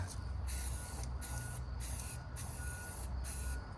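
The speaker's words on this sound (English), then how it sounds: "I think while I'm at it, I'm gonna do a little spray painting." Short repeated bursts of Krylon Color Max satin olive spray paint hissing from an aerosol can, touching up a Royal Enfield Bullet sidecar fender, four close, loud sprays with brief pauses between them.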